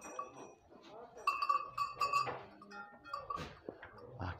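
Dairy goats on a farm in the Pernambuco agreste, bleating several times at close range with a cowbell clanking among them, while people talk nearby in Portuguese.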